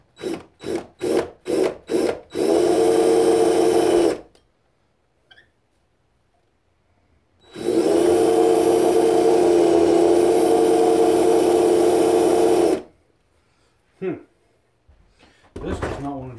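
A power drill whirs into a wooden handle in a quick series of short bursts, then in two long sustained runs separated by silent pauses.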